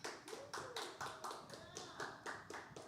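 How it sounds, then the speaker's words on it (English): A small audience at a spoken word night at Cafe CODA applauds a poet: quiet, regular, evenly paced claps repeating in a steady rhythm throughout. "One more round of applause for Han."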